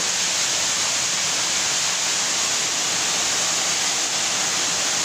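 Water gushes from a burst pipe that has broken up the asphalt of a St. Petersburg residential courtyard, a loud, steady, close roar of rushing water that runs unbroken, with no voices.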